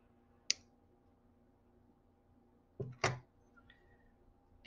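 Wire cutters snipping off excess wire while making a beaded lariat-style necklace: a few sharp, close, quiet clicks, with two snips in quick succession near the middle, in an otherwise quiet room.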